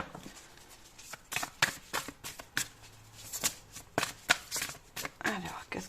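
Tarot cards being shuffled in quick, crisp riffling bursts with short pauses between, close and clear, while a voice talks softly in the background.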